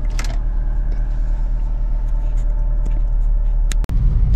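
Maruti Ritz (Suzuki Splash) hatchback engine running steadily after a throttle body cleaning, a close, continuous low rumble with a brief click or knock near the end, no talk.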